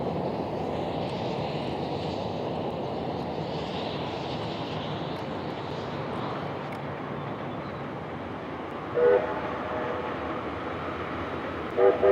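A steam locomotive train rumbles past steadily with a broad, continuous roar, and faint whistle-like tones from the locomotive's whistle sound briefly near the end, in New Zealand.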